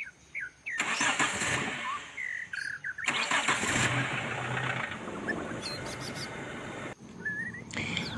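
Daihatsu Taruna engine cranking and starting after a new starter motor is fitted, with repeated bursts of cranking and then a steady idle, close by, with birds chirping in the background.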